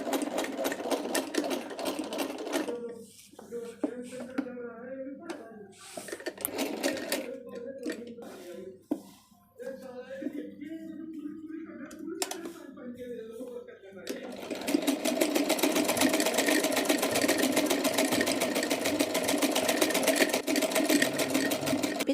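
A sewing machine stitches a suit, running in a steady, loud, continuous whir for the last third after a stretch of someone talking with brief bits of machine noise.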